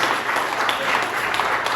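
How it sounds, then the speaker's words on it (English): An audience at a birthday event in a brewery applauds, a dense, steady patter of many hands clapping at moderate distance for a couple of seconds. "let's give a round of applause for that."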